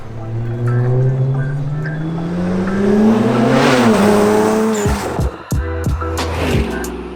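Straight-piped BMW 335i exhaust, loud and close, with engine revs rising and falling, then a burst of crackling pops and bangs toward the end as the throttle drops.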